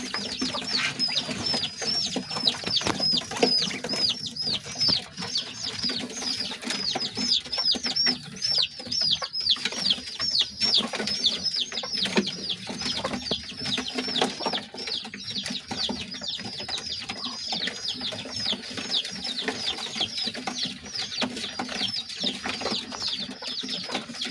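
Pigeons kept as winter birds call repeatedly over a steady, dense backdrop of chirps and clucks, a busy loft chorus continuing throughout with no talk.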